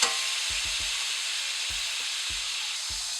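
A steak seared in a hot pan for a sandwich, just flipped to its second side, sizzles loudly and continuously up close, with a few soft low knocks scattered beneath the steady hiss.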